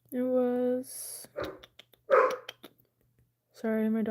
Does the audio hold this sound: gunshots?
no